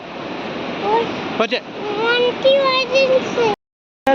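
Steady broadband roar of rushing water at Athirappilly waterfall in Kerala, loud and continuous for several seconds with voices talking over it, then cutting to silence before a brief burst at the end.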